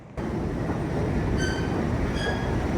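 A train rumbles steadily close by at a station platform, a broad continuous roar with a couple of brief high metallic wheel squeals partway through.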